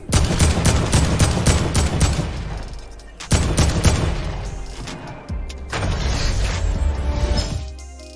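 Fortnite gameplay gunfire: rapid bursts of shots in three loud volleys separated by brief pauses, with sharp repeated cracks and some background game sounds.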